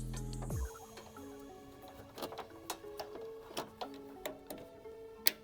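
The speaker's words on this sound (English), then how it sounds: "And then plug your connection in," An electrical connector on a BMW exhaust valve system is pushed in and clicks into place, heard as a series of small, sharp, close clicks and taps in a quiet setting.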